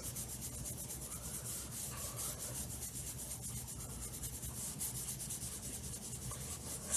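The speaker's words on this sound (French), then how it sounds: "Ça brosse beaucoup plus doucement. Ça fait vraiment un fini plus fin." A paintbrush works acrylic paint softly across a surface in a quiet, continuous swishing rub that stays close and faint throughout, with no talking.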